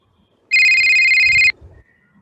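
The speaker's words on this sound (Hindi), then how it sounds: "तभी मम्मी का फोन बजा।" A mobile phone gives a single loud, bright electronic ring lasting about a second, followed by faint room noise.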